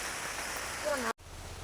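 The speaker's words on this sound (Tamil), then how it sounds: "மழை பெய்யுது பயங்கரமாக மழை வருது" Heavy rain pouring steadily as a dense, close hiss that fills the whole clip, with a short sweep of other noise near the end before a brief dropout.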